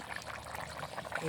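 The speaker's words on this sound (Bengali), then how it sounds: "মাংসটা ঝোল দিলাম," Broth being poured into a pot of country chicken curry gives a soft, steady liquid pour that lasts about a second, close and fairly quiet.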